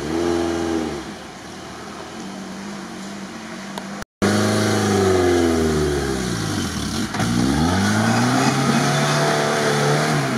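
A Lada Niva engine revving hard while driving off-road on a rough tank road, rising and falling through several throttle bursts, close and loud, with a brief cut partway through.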